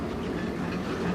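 A CN freight train in Sarnia, Ontario starts moving very slowly, giving a dense, loud rumble of railcars with a faint clickety-clack of wheels close by.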